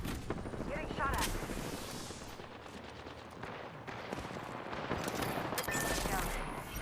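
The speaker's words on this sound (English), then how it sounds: "Getting shot at." Dense automatic gunfire from the R99 and Prowler fills an Apex Legends match with rapid bursts and near-continuous shooting throughout. A voice speaks briefly under the shots.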